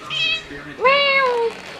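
A cat meows twice up close, a short high cry followed by a longer, louder drawn-out meow, with faint background noise and no talking.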